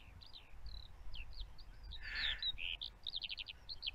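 A skylark sings a rapid, continuous stream of high trilling and chirping notes, somewhat distant, over a faint low rumble of wind.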